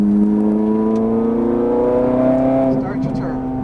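Exotic sports car engine on a Las Vegas race track, loud and close, revving hard with steady rising pitch under acceleration, then easing off near the end.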